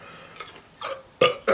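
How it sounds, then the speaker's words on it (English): A loud, deep burp erupts while someone eats pickles, following a couple of softer throaty gulps; it sounds close and stands alone with no talk over it. "I'm burping."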